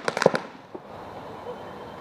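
Paintball markers firing during an outdoor paintball game: a quick burst of several sharp pops close by, then a single fainter shot, with the rest of the field quiet.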